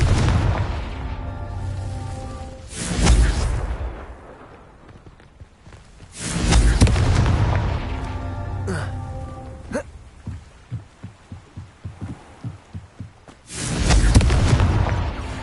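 Booming fire-spell blasts from Confringo in the Hogwarts Legacy video game, three heavy whooshing bursts spaced a few seconds apart, with a quick run of sharp crackles between them.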